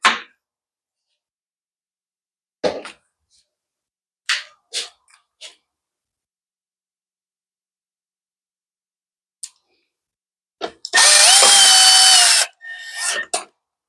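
Scattered clicks and taps of screws being handled on a lawn mower lead to one short, loud whirring burst of a power drill driving a screw back in, then a few more quick clicks.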